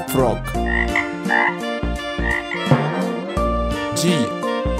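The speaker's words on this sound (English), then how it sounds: "F for frog." Frog croaks come in a rhythmic, evenly paced run of loud, repeated calls, mixed with bright musical tones from a children's alphabet song.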